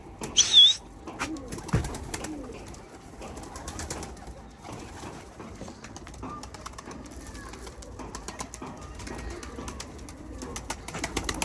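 Young pigeons, being flown from a loft in Mardin, give soft coos and brief wing flaps, with a burst of flapping near the start and scattered bird sounds over quiet outdoor ambience.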